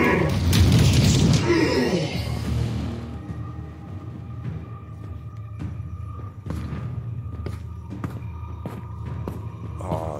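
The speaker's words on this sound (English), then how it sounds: "Somebody blew a hole in the wall." A heavy, booming blast blows a hole through a wall in a video game, loud at the start and rumbling away over a few seconds, followed by quieter thuds, clicks and ambient noise.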